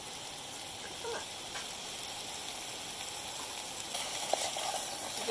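Mushrooms sizzle and fry steadily in a pan over a camp stove on the Appalachian Trail, a constant close crackle with a few small pops and stirring scrapes.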